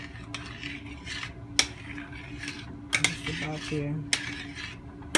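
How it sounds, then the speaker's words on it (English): A spoon scrapes and clinks against a pot of yellow rice with pink beans, with a few sharp metallic knocks among softer stirring scrapes. A voice speaks briefly. "So right about now, I'm going to give it another stir."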